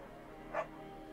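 Beagle named Bucket in the video game Firewatch gives a single short, soft bark or yip, faint and brief over a low steady background hum.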